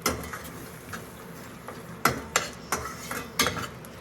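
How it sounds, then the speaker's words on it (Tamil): A utensil scrambles egg in a pan for vegetable egg noodles, giving sharp, close clinks and scrapes against the metal at an uneven pace over a faint background hiss. "ஸோ இதை அப்படியே ஸ்க்ராம்பிள் பண்ணி விட்டுடலாம்."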